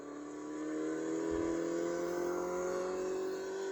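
A car engine hums and rises slightly as the vehicle pulls away, a smooth steady whir with tonal engine lines holding for several seconds, fairly quiet and with no voices over it.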